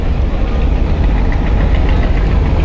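A passenger launch's heavy diesel engine drones steadily and loud throughout, a continuous low knocking rumble with no pause, during a launch race after the Charmonai prayer gathering.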